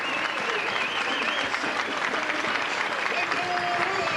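A rugby league crowd at a Bradford Bulls versus Warrington match in 1999 rises in a standing ovation, its steady, full applause filling the air throughout with a few voices carrying over the clapping.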